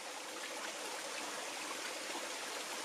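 A small waterfall pours steadily into a shallow pool on a rural property in Ecuador, a continuous close splashing rush with no voices.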